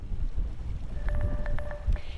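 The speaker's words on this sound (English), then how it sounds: "It is windy out here right now, Sophia." Strong gusty wind buffets an outdoor microphone in Nyssa after a thunderstorm and microburst, a continuous low rumbling roar with a few faint higher tones partway through.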